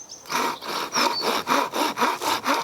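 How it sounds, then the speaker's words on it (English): A small bushcraft multi-tool saw cutting wood in steady back-and-forth strokes, about eight rhythmic rasping pulls, close and clear with no talking. "if you're not used to sawing, you can pull the saw across"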